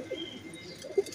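Teddy pigeons shift about in their coop, giving soft low cooing and faint rustling, quiet and close, with a slightly louder coo near the end of the brief moment.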